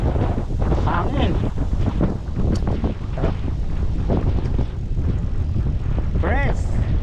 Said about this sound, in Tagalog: Iba talaga yung natural na hangin